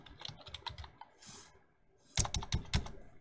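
Typing on a computer keyboard, close clicky key presses in a quick burst, a brief pause, then a louder run of firm strokes.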